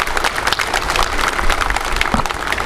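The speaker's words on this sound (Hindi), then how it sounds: "आप लोगों के लिए एक बहुत ज़ोरदार तालियां अपने लिए बजाइए" An audience bursts into steady, dense applause at a public ceremony for unveiling a statue of Babasaheb Ambedkar, with continuous clapping from a sizeable crowd throughout.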